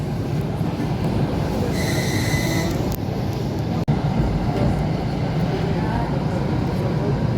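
A summer passenger train running from Syzran to Samara rumbles loudly and continuously, with wheel noise on the rails, a brief high squeal partway through and a sharp jolt just before the midpoint.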